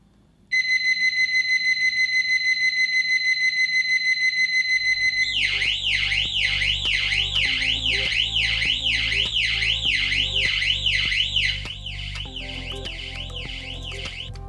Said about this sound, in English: You can choose between 7 different buzzer styles and turn the buzzer on or off using the process data.